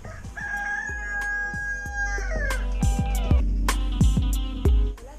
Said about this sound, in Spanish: Gallina plateada.